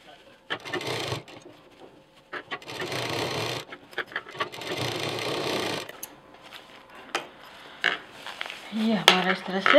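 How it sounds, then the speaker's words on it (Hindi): A sewing machine stitches a quilted backpack piece in several bursts of fast, steady whirring, close and loud, separated by short pauses with handling noises and faint talk. "इसको हम इसके साथ पूरा सिल देंगे"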